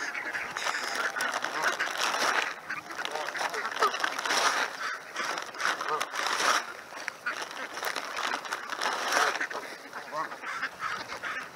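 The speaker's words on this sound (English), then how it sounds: "Green Lake Duck Army has" A flock of ducks and geese at Green Lake in Seattle honk and quack continuously and close by, calls overlapping in a busy, chattering chorus.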